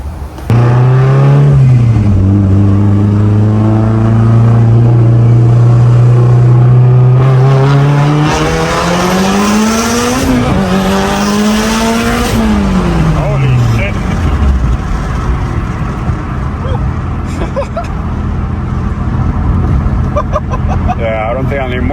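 A Mitsubishi Evo 8 with a fuel fault accelerates hard on a street test drive, its engine note climbing loudly through gears with shifts and a brief chirp of tyres, then easing off, while people talk over it.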